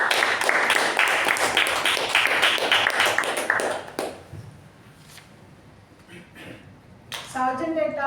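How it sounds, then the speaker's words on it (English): Toastmasters club members applaud the contest winners with brisk, dense clapping that fades after about four seconds, followed by quieter room noise, a few taps and then a voice speaking. "So a big round of applause for the winners at the contest."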